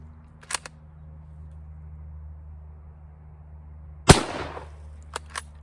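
A rifle firing 1953 Yugoslavian surplus 8mm ammunition gives one loud, sharp close shot over a steady low hum, with a few faint clicks and taps before and after.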